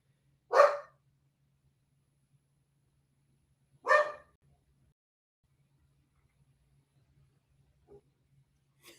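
A dog barks twice, several seconds apart, each bark loud and close in an otherwise quiet room, followed by a couple of much fainter sounds.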